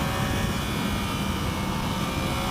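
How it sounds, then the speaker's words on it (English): A Yamaha R1 60th Anniversary motorcycle's cross-plane inline-four engine and exhaust make a loud, steady, dense roar throughout, with no talk over it. "the exhaust gets a lot louder and it sounds great. And Yamaha's cross-plane inline 4 sounds amazing."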